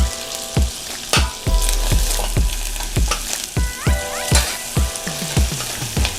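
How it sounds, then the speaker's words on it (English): Onions sweat in a hot pan with salt, a loud, close frying sizzle broken by repeated sharp spatula knocks and scrapes about twice a second. "Since we're sweating the onions, we're gonna go in with some salt"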